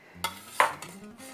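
A bowl handled on a kitchen counter while preparing birria tacos gives two clear knocks, a soft clack and then a sharper ringing clink, close by and alone with no talk.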